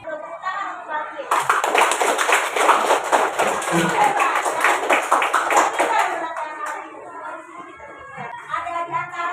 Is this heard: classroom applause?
yes